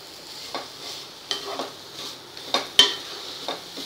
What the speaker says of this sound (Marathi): हे बघा, हे गूळ छान वितळवून घ्यायचं आहे। गॅस मी कमी करते, नाही तर मग खोबरं जळून जाईल गूळ वितळेपर्यंत।